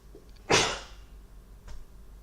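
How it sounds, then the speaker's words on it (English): A single sharp, loud human sneeze bursting out close by, followed by a faint sniff or short noise a second later in an otherwise quiet room. "Excuse me, I need to sneeze."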